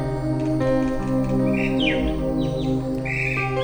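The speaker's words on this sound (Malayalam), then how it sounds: "ഇതിനകത്ത് ഒരുപാട് കിളികളുണ്ട് കേട്ടോ." Small birds chirp and tweet in a seaside casuarina grove, intermittent calls heard over a steady background hum.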